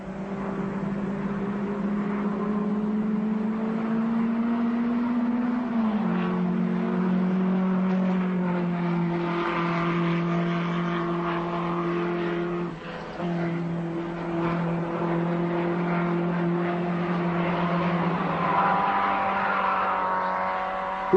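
A Dacia rally car drives a winding mountain stage of the 1978 Danube Rally in Romania, its engine holding a steady droning note that drops in pitch at gear changes and keeps on loud without pause.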